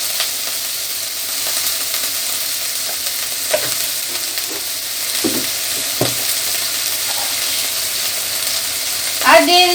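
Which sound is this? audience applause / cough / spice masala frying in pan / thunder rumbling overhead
spice masala frying in pan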